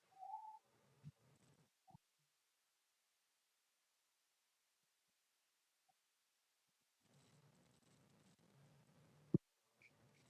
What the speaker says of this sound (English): We got some new bird here.